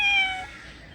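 A single close, clear cat meow, loud at the start and tapering off within a second, heard alone with no talking.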